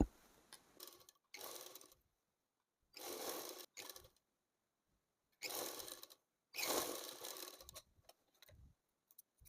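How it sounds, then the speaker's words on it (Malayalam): A sewing machine stitches a pocket onto cigarette pants in quick bursts, running in short and longer spurts separated by silences, close and fairly quiet. "ഇവിടുന്ന് ഇവിടെ സ്റ്റിച്ച് ചെയ്യാം എന്നിട്ട് ഇവിടുന്ന് ഇവിടെ വരെ സ്റ്റിച്ച് ചെയ്യാം"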